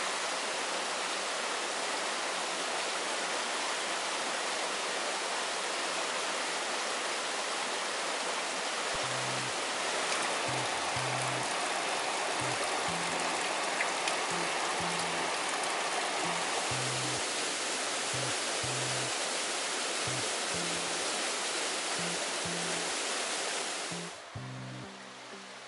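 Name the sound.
river flowing through gorge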